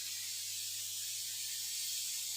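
A pressure cooker holding rajma curry lets out a steady, faint hiss of escaping steam that continues unbroken, with no voices.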